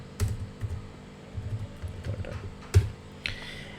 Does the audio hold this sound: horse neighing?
no